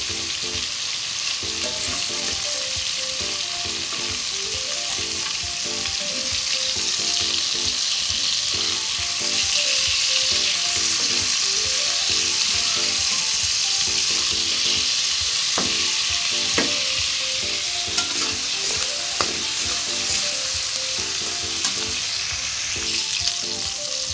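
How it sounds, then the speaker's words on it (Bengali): Prawns for Bengali chingri bhuna fry in a pan with a steady, close sizzle that holds evenly for the whole stretch, with faint background tones and no talk. "চিংড়ি মাছগুলো ভাজা হয়ে গেছে, এখন এগুলো তুলে নেব।"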